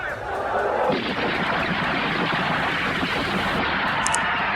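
Soldiers' machine guns fire in a dense, sustained barrage of rapid shots, with a voice speaking over it.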